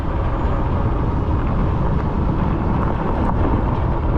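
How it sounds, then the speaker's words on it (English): Steady roaring wind buffeting the microphone while riding a new e-bike along a highway at around 20 mph, loud and continuous with no talk. "This wind feels so good."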